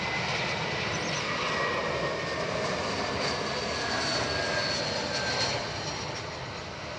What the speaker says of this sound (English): Here we go, Jetstar 321 CEO, one of the classic ones.